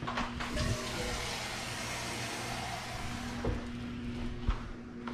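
Kitchen tap running water into a sink, a steady splashing rush for several seconds with a low hum beneath and a few clunks near the end.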